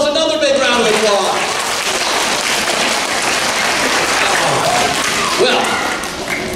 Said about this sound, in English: Give yourselves another big round of applause.